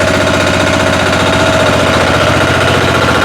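A walk-behind tractor (motoblok) engine runs loud and close, a steady rapid chugging drone with no pauses.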